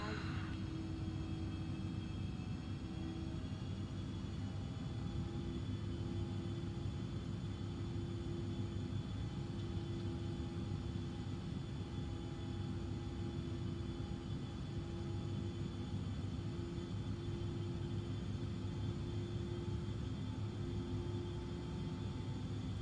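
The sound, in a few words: Embraer E145XR jet in flight, X-Plane video game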